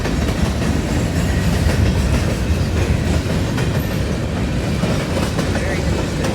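A Norfolk Southern mixed freight train with SD70ACE locomotives rolls past at close range. It makes a loud, continuous rumble with steady wheel clatter throughout.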